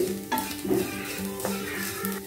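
Sesame seeds roasting in a dry pan, a close, continuous crackle and sizzle with faint stirring scrapes against the metal, with no voice.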